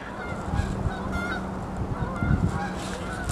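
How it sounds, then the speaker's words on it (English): Outdoors by a river, a Canada goose honks a few times at a distance over steady background noise and wind. "I think that's a Canadian goose."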